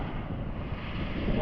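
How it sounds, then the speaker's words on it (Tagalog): A short burst of strong wind roars steadily and loudly at a campsite near Bisibis Falls, Mauban, Quezon, buffeting with a rough, rumbling noise. "Napakalakas kasi ng hangin dito."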